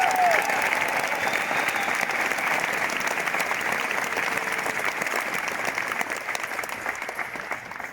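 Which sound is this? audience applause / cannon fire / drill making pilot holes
audience applause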